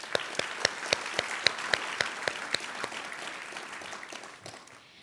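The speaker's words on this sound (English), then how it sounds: "Let's give another round of applause for Dr." An audience at a medical school honors convocation applauds, with crisp individual claps standing out over a steady wash of clapping that gradually thins and fades toward the end.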